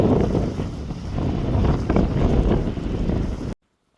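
Strong wind buffets the microphone in a vegetable garden in Dammam, Saudi Arabia, a loud, continuous low roar with gusty swells, then cuts off abruptly near the end.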